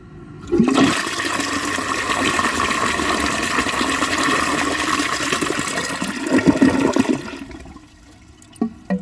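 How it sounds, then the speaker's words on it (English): A 1902 Fleck Bros. Victor toilet flushes with a sudden loud rush of water that holds steady for several seconds, then tapers into trickling and gurgling as the bowl refills. "I'm going to flush that and see what it does."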